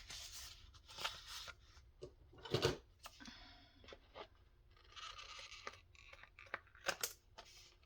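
Scissors snip through a cardboard file folder being cut up into pockets for an autumn junk journal, a run of close, crisp cuts and scrapes with short pauses between strokes.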